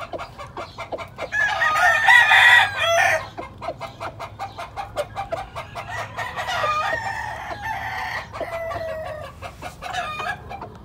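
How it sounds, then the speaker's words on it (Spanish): A Whitfield Claret gamecock rooster crows loudly and close, then keeps up a run of rapid clucks and short calls with no talking. "Mira, aquí le tenemos un gallo clarete. Un Whitfield Claret."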